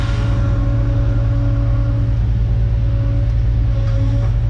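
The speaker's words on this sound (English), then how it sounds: "rev this baby up a little" Kubota KX080 excavator engine revving up, a loud, steady diesel rumble with strong low harmonics that holds close and constant throughout.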